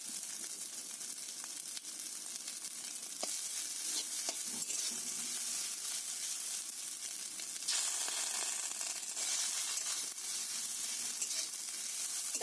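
Chowmein with salt and tomato sauce is tossed and stirred in a hot pan, a continuous crackling sizzle with scraping and shuffling bursts of the spatula, fairly close and unbroken by speech.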